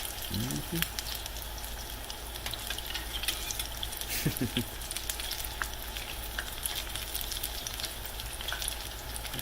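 Apple fritters frying in hot oil, a faint, steady crackling sizzle heard from a distance, with a few brief clinks along the way.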